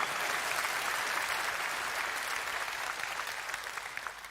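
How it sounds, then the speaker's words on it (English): Sustained applause from a Reform UK conference audience for the team, a dense steady wash of many hands clapping that holds for several seconds and then thins out slightly toward the end. "Please give them a round of applause."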